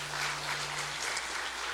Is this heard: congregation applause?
yes